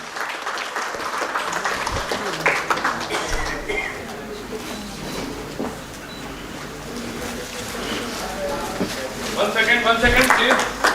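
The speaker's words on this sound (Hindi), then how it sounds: "जोरदार तालियों से स्वागत करें" Audience applause welcoming guests at a mushaira poetry gathering, a sustained wash of clapping that swells louder near the end, with a voice speaking over it.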